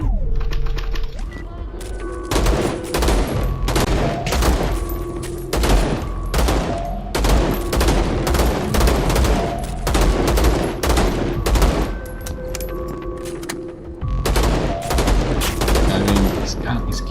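Heavy-recoil weapon fire in a first-person video game, loud bursts of rapid shots repeating in quick clusters with brief pauses between them, dominating the scene over a low background hum.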